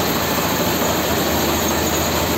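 A tractor engine runs at a steady pace close by, a loud, even rumble with dense noise, no change in pitch across the short stretch and no voices.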